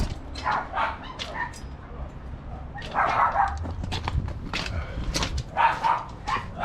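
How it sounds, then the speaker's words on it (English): Several dogs bark and yip excitedly in short overlapping bursts outdoors near a backyard garden, some near and some farther off, with a few whimpers between barks and no talking. "Why are my dogs going crazy?"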